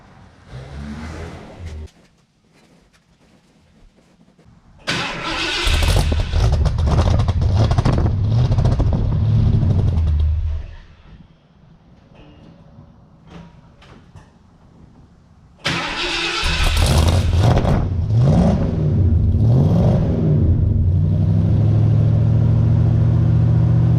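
A 1976 Mercury Cougar engine cranks and catches twice, each time settling into a loud, steady idle after a brief struggle, with quieter gaps between attempts.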